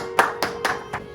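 Applause at a church middle-school certificate ceremony: four sharp, evenly spaced claps, close and fairly quiet.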